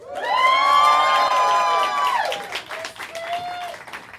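A rap battle crowd applauds and cheers for a Tokyo competitor, loud dense clapping and whooping with a sustained sung or shouted tone over the top, then the cheering thins out into scattered claps and calls.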